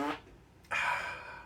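A short fart sounds up close in a quiet room, a brief low burst followed after a pause by a louder, longer rasp that tails off.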